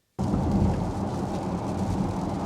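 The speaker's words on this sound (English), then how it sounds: "Weather conditions truly terrible, lots of rain and spray on the road" Heavy rain and road spray roar continuously around a Porsche Taycan driving on a wet road toward London. The sound is loud, broadband and steady once it starts, with no voices.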